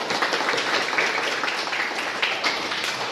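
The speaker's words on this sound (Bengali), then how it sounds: "জোরে হাততালি।" Loud, dense applause from a crowd at a student entertainment gathering, steady clapping filling the whole moment without a break.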